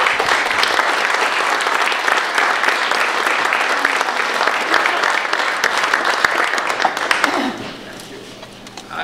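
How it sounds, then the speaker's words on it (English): Audience at a water association's annual meeting applauding the standing board members, a loud sustained round of clapping that fades toward the end, with a voice surfacing at the close. "I'd like these folks to have a wonderful round of applause."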